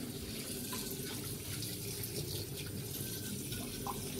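Dishes are washed by hand under a running tap, with a steady splash of flowing water and faint clinks of crockery throughout.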